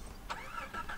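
A car engine starting in the video game Far Cry 3: a short cranking catch that settles into a low running hum, fairly quiet and heard alone.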